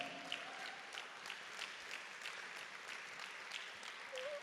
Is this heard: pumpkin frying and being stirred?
no